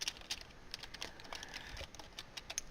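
Computer keyboard typing during a Minecraft building session, quiet, fairly close clicks in quick irregular bursts with short pauses, no talking.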